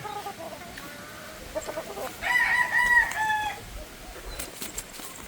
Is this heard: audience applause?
no